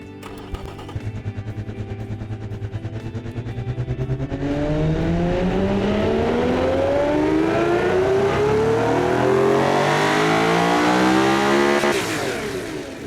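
A simulated supercar engine in the game Automation climbs steadily in pitch for several seconds, rising to a high, buzzing scream at the 8,600 RPM rev limiter before cutting off near the end.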